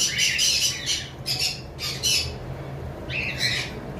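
Loud, harsh cockatiel squawks burst out in several short clusters at a bird farm, separated by brief pauses over a low background hum.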